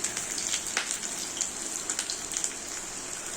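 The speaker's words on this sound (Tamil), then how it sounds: "சின்ன வெங்காயம் நல்லா பொரிஞ்சு வரப்போம்." Small onions frying in hot oil with mustard seeds and dried chillies give a steady, close sizzle scattered with light crackles and pops, with no talking.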